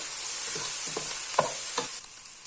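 Softened vegetables begin to fry in a soup pot, making a soft, steady sizzle. A few light stirring scrapes stand out before the sound fades slightly near the end. Quiet and close, with no voices.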